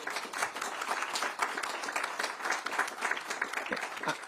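Audience applause for Jackie Baillie at a political event on the NHS, a steady dense wash of clapping filling the whole stretch at moderate level, with no talking over it.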